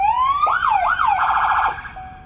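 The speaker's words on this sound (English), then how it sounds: "The button on the top left marks sirens simply takes you through your three siren tones" A fire brush truck's electronic siren steps through its tones, a steady wail giving way to rising and falling sweeps and then a rapid yelp, loud and close with no talking.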